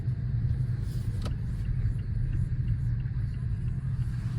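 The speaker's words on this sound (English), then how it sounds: "So right now I'm gonna just be cruising around in the snow." A Mazda cruising through snow, heard from inside as a steady low engine and road rumble with a soft muffled hum and no talking.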